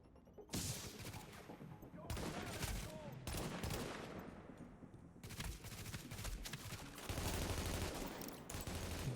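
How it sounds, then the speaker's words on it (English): Dense gunfire in the video game The Division, including an M1A rifle, heavy overlapping bursts and volleys with brief gaps, loud and continuous through the scene. "Look at him just indiscriminately shooting at a civilian."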